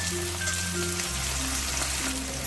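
Onions frying in a pan for a mixed winter vegetable curry of cauliflower stalks, a steady close crackling sizzle with soft hum beneath, no talk.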